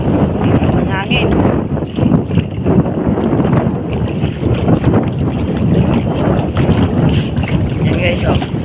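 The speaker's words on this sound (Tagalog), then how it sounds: "Lakas ng hangin." Strong typhoon wind roars across the microphone over flooded streets in a fishing village, a steady loud buffeting rush with a person talking over it.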